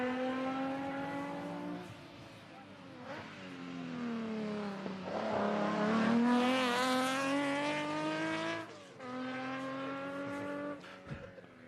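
A Datsun race car at the Leyburn Sprints screams past with strong rising and falling harmonic engine whine, revving hard through gear changes and peaking as it passes close before fading.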